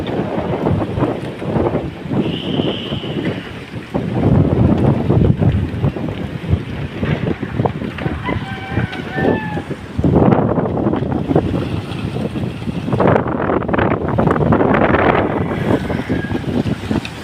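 Strong storm winds and heavy surf during a typhoon at General Luna, Quezon, roaring steadily and loudly throughout, with gusts buffeting the microphone and big waves crashing in surges.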